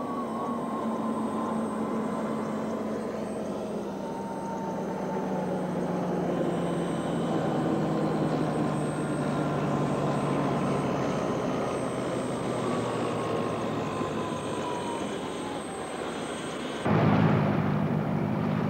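A Miss Britain IV racing hydroplane boat engine roars steadily at a distance as it planes over flat water, a continuous droning hum that swells slightly, then shifts abruptly near the end.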